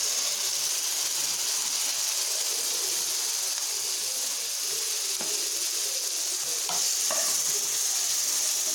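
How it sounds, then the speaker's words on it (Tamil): Tomatoes frying with spices in a pan for spicy chilli idli, a constant loud sizzle throughout, broken by a few scraping stirs near the end, with no voices. "இது நல்லா வந்து மிக்ஸ் ஆகிற வரைக்கும் நல்லா வந்து ஃப்ரை பண்ணணும்."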